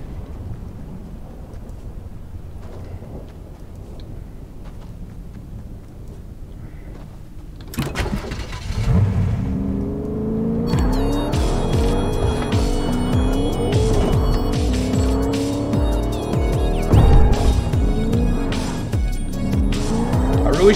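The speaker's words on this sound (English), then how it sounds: "There's no boost in the truck." Truck driving in the video game Fortnite: a quiet stretch gives way to a loud, steady engine drone with tire squeals and skids layered over it and music-like tones above.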